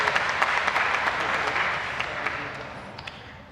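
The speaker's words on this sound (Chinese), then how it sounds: "我甲因拍拍手吼" A church congregation at a Taiwanese-language Sunday service applauds a youth group with dense, continuous clapping that gradually thins and fades.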